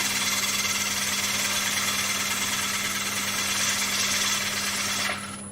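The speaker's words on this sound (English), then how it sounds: "Now that cutter now sounds like it's not cutting as smooth as it could." On a wood lathe, a gouge cuts a large wooden platter and does not cut smoothly, giving a loud, steady, rough buzzing and chattering scrape over a low motor hum. The cut stops abruptly near the end.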